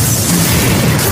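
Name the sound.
bomb explosion at train door in film SAS: Red Notice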